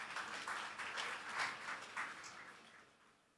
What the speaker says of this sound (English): A huge round of applause as we felicitate them.